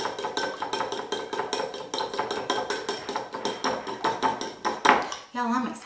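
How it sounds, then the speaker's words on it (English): Three eggs whisked briskly in a bowl for a crustless pumpkin pie, a close, steady run of rapid utensil clicks against the dish before the beating stops. "I've got my 3 eggs here. I'm going to just beat them real quick."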